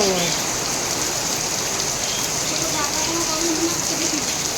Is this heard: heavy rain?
yes